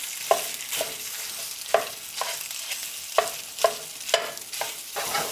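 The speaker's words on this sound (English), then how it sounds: "As this sausage cooks," Italian sausage frying in a pan, a steady soft sizzle broken by a sharp spatula scrape roughly every second or so as the browned bits are worked off the bottom.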